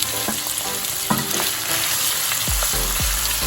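Prawns shallow-frying in hot oil in a pan, with a continuous close sizzle and occasional stirring scrapes and knocks, no voices.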